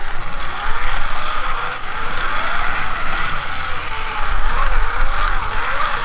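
Carrera slot car, a Lamborghini Huracan Performante with a Shark motor, running steadily around a track, a continuous smooth whirring hum with gentle rises in pitch as it accelerates, close and fairly loud.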